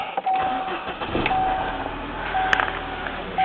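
A Saab car with roughly 120,000 to 130,000 miles is started up, the engine catching and settling into a steady idle under a whining, tonal hum, heard close with no talk.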